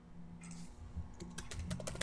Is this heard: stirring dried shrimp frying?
no